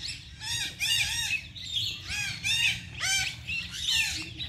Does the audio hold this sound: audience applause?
no